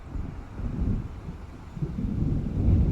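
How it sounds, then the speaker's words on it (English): Deep rolling thunder from an approaching storm in the video game Alan Wake rumbles low and continuously, swelling in waves over a windy background, with no voices. "It seems there's a storm coming."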